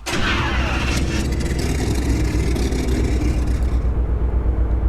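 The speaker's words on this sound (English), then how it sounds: "let's see how this DeLorean's gonna sound when we start it up" A DeLorean engine in the Roblox game Greenville cranks and catches, then settles into a loud, steady idle drone that continues alone.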